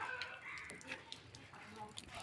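Chickens cluck and rooster-like calls come in short bursts under background noise and some speech, fairly close but not loud.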